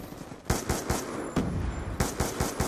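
Gunfire in the video game Call of Duty: Black Ops 2, rapid bursts of automatic shots in a quick uneven rhythm, close and loud, with short gaps between volleys.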